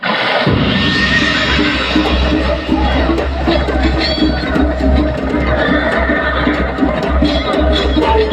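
Horses whinny and neigh as a sound effect in the Amer palace light and sound show in Jaipur, loud and repeated over a rumbling bed of battle noise and crowd-like roar, with a narrator's voice woven in.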